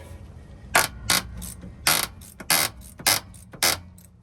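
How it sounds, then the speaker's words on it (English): Ratcheting clicks from loosening the slack adjuster on a Kenworth T680 front axle brake, six sharp metallic bursts spaced about half a second apart, close and clear with no talk. "you're gonna have to loosen up the slack adjuster"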